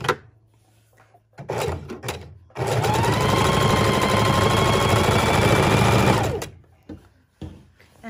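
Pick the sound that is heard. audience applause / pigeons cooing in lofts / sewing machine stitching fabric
sewing machine stitching fabric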